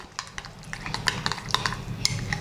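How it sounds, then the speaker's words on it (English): Radish raita with green chillies, coriander and curd being stirred in a bowl, a run of close wet mixing sounds with light clinks and scrapes of a spoon, no talking. "And now let's mix everything in."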